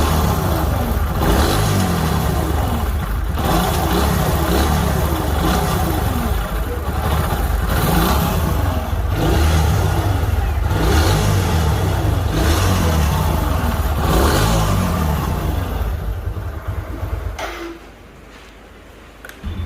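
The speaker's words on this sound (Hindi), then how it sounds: "उसके बाद आपको इंजन की आवाज़ सुनाते हैं।" An old junkyard motorcycle, its engine already rebuilt twice and still faulty, runs after a kick start with a rough, loud, close-up chugging that swells in repeated revving bursts before dropping away sharply near the end.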